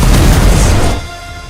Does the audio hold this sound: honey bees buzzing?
no